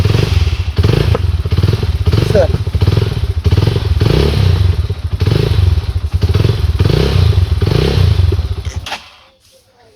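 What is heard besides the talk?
Yamaha R15 V3 motorcycle being started and idling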